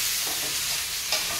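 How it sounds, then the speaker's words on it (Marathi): Chillies and finely chopped fenugreek leaves fry in hot oil, giving a steady close sizzle with a few soft scraping stirs and no voices. "आपल्या मिरची पण तेलामध्ये चांगली भाजली दिली पाहिजे"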